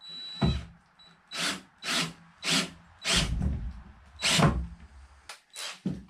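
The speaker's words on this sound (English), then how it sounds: "we'll drill the rest of our pilot holes here." A power drill boring pilot holes in wood for a DIY Mercruiser sterndrive roller stand, eight or so short, loud whirring bursts in a steady stop-start rhythm, close by with no talking.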